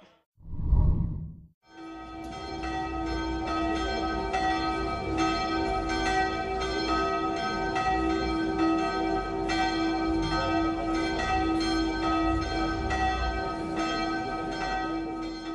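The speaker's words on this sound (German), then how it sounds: "Am 11. Mai wurden die Ratskellerglocken mit einem Anläuten feierlich übergeben." Church-style bells in the tower of the Schwarzenberg Ratskeller ring out after a brief whoosh, a dense, sustained peal of overlapping strikes that carries on loudly and steadily with rich ringing tones.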